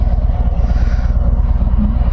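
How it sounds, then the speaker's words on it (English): A 2019 Harley-Davidson Road King motorcycle pulls away, its V-twin engine giving a loud, close, rumbling, pulsing drone with wind buffeting on the microphone. "Let's go ahead and ride this bike out of here."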